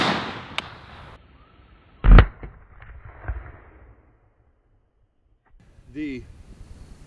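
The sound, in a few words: M1 Garand rifle shots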